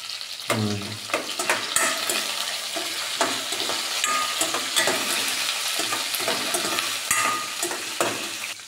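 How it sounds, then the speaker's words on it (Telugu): Curry leaves fry in hot oil in a pan for coconut fried rice, a loud, dense crackling sizzle with rapid spitting pops throughout, alone without talk. "కొంచెము కరివేపాకు వేసిన తర్వాత కరివేపాకు కొద్దిగా మగ్గిన తర్వాత"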